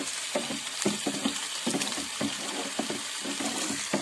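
Water in an aeration filter is stirred with a stick, giving repeated close sloshing and splashing swirls in a steady rhythm, with no talk.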